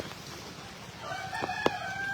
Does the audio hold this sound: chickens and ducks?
yes